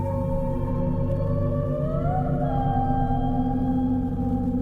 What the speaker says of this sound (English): In 1997, scientists from NOAA recorded a sound in the deep Pacific.